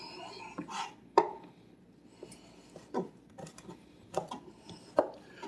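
Bacon being sliced with a knife on a cutting board, a series of separate, irregular cutting thuds and taps, fairly close and clear, with no talking.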